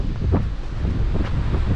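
Strong wind buffets and gusts in irregular low rumbles, close and moderately loud, alone with no talking.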